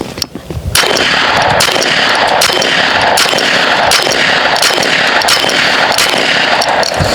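A tethered BinTac S45 Mini semi-automatic .45 calibre airgun fires a rapid string of sharp, loud shots at a fairly even pace, close by and with no talking.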